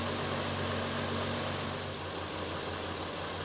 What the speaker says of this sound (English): it's idled down to 700 RPMs